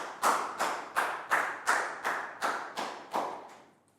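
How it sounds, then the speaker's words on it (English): During a Year 3 English lesson, about ten loud, evenly spaced claps ring out one after another in a steady rhythm. Each clap leaves a short echoing tail, and the last ones fade away. "Big round of applause"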